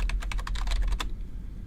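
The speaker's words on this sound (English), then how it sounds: "I can search for an industry by typing in a keyword like electronic" A keyword typed on a computer keyboard: a quick run of about a dozen crisp key clicks lasting a second, close and clear, then quiet room tone.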